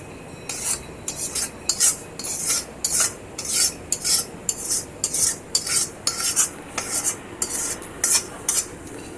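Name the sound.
amla pickle being transferred into another container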